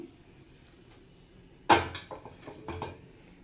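An idli steamer pot is set down on a stove with a sharp metallic clunk, followed by a few softer knocks and scrapes in an otherwise quiet kitchen.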